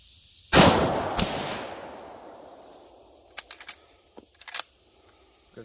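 A single loud, sharp shot from a Marlin rifle in 30-30 cracks out and rings off in a long fading tail, followed by a few faint clicks and rattles.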